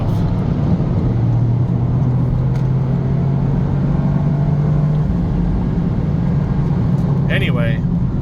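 A car cruising on a freeway, with a steady low road-and-engine rumble filling the interior throughout and a brief faint chirp near the end.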